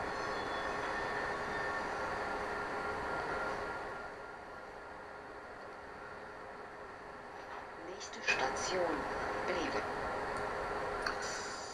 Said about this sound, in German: Da kommt der Regionalexpress.